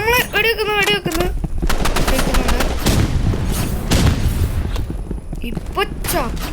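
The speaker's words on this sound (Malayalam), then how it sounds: "നമ്മളെ വെടിവെക്കുന്നു." Rapid bursts of video game gunfire crackle loudly through a frantic online match, mixed with an excited voice talking over the shots and a few sharp impacts.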